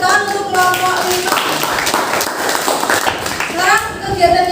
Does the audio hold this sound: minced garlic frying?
no